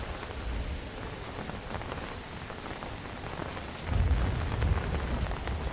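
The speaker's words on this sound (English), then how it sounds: "Some thunder." Steady rain patters and hisses in a PS1-style horror game, with a low rumble of thunder swelling near the end; no talking.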